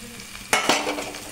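Onion-tomato masala with red chilli powder stirred and fried in oil in a kadai, a continuous close sizzle broken by two sharp scraping strokes of the spoon.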